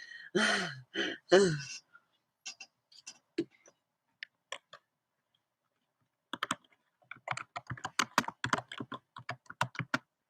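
Short bursts of computer keyboard typing, sparse clicks at first and then a faster run of keystrokes near the end, close and fairly quiet, following a brief sigh-like breath at the start.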